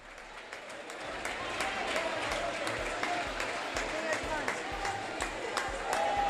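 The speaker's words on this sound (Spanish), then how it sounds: "Forte o aplauso, por favor," Applause from a crowd at a men's Final Four basketball final in a gym, steady clapping that fills the space throughout, with a bouncing ball and voices faintly underneath.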